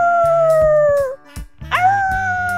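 A human voice imitates a wolf howling, giving two long sustained wavering howls separated by a short pause, close and loud with no other sound.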